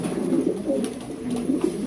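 Pedigree pigeons kept for sale coo softly and continuously at close range, their low, throaty, rolling calls overlapping with no talk.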